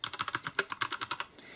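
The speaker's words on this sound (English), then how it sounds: "let's do a quick typing test" Rapid, even keystrokes clatter on a NEWMEN GM610 compact wireless mechanical keyboard, a quick run of crisp close clicks ending in a brief pause.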